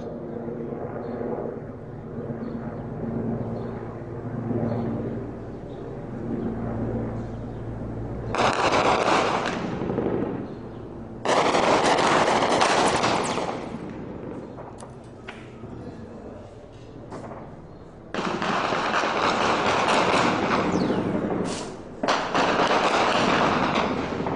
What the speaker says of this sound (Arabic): اطلاق نار من المروحيات على مدينه الحراك